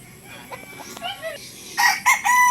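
A bulik gamecock crows on a game farm, starting with soft chuckling calls and rising to a loud, close crow near the end, with someone talking faintly in the background.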